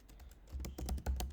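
A command is typed on a computer keyboard as a short run of quick, close key clicks, about a dozen presses in an uneven rhythm, with no talking.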